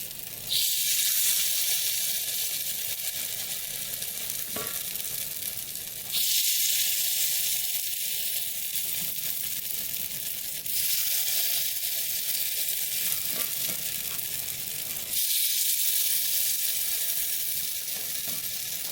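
Ebelskiver batter fries in a pan over medium heat, giving a loud, steady hiss of sizzling that runs continuously, with brief dips and small crackles. No one speaks.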